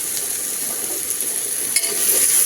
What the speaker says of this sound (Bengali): তারপরে ডালিয়াগুলো দিয়ে দিব, ভালো করে ভেজে দিব।